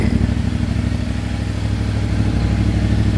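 A CFMOTO IBEX 450 motorcycle engine runs steadily and loud up close, a low throbbing rumble with a slight surge in level partway through, no voices present.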